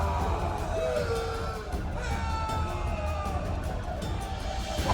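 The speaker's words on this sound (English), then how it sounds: "A riot erupts." An angry rioting crowd in The Witcher 2 fills the scene with a dense, continuous wall of yelling and shouting voices, steady and loud with scattered higher cries.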